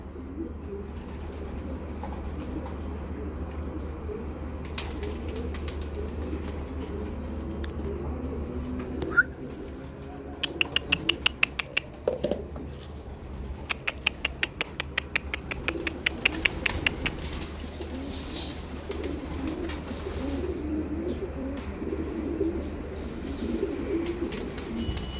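Pigeons in a loft coo steadily, low and near, while sharp rapid pecking or clattering bursts break in midway through.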